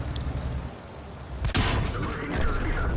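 Tank gunfire in the World of Tanks video game: one sharp, loud blast cracks out midway over steady battle rumble.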